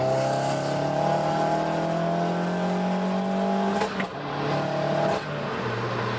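A Stage 3 Corsa VXR fitted with a flame kit pulls hard from the cabin, its engine drone climbing steadily in pitch, then dropping briefly at a gear change before rising again, loud and continuous with no talk.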